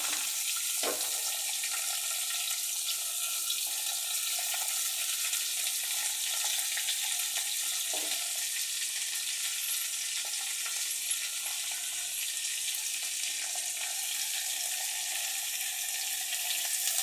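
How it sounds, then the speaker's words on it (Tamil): Spices and eggplant frying in oil for biryani, a steady close sizzle that runs without pause, with a few faint clinks and stirring scrapes and no talk. "இதை போட்டு நல்லா பொரிஞ்சதும் கத்திரிக்காய்,"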